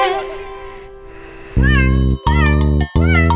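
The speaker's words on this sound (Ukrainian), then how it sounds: "Кіт бешкетник і пустун." A cat meows within a Ukrainian children's dance song. Loud, drawn-out meows repeat three times in close succession over the music.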